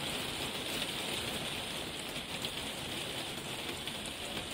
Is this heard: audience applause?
no